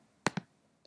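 Two crisp mouse clicks in quick succession on a computer while setting up an app shortcut for a Fire TV, followed by a faint tiny tick, in a quiet setting.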